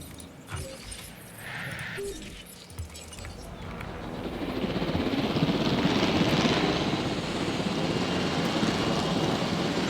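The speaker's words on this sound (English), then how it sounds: "I'm thinking just auto-assign the helicopters to knock them out." Helicopters in a dinosaur park video game fly overhead, their rotor and engine roar swelling from a lighter start to a loud, steady drone.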